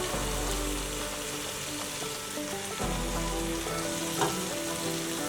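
Biryani masala frying in a pan with very mushy tomatoes gives a steady, close sizzle that holds throughout, with a faint stirring scrape near the end and no talk.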